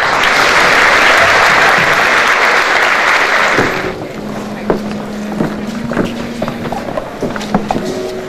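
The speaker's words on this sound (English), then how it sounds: "So we could just get a big round of applause" Loud applause from a prom crowd fills the first few seconds, then drops away to a quieter room with scattered claps, thuds and stray tones.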